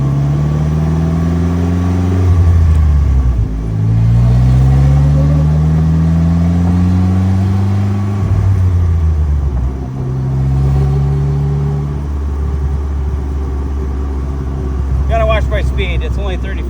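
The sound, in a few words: 2015 Slingshot SL accelerating through gears on road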